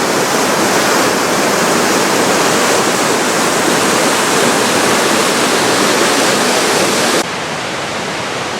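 Staubbach Falls in the Lauterbrunnen valley thunders with its river in a loud, steady broadband roar of falling water, constant throughout with a slight drop in level near the end.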